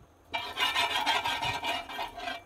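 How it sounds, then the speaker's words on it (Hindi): Oil goes onto a hot nonstick tawa over a high flame, giving a close, steady rubbing, rasping hiss that starts abruptly and carries on for about two seconds with no talking. "अब इसमें थोड़ा सा ऑयल डालेंगे"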